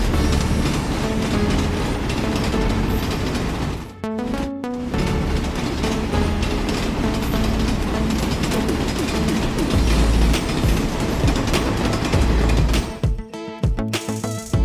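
A toy train rattles along its track with a dense, continuous clatter and rumble, close and loud. It cuts out briefly twice, then clatters on.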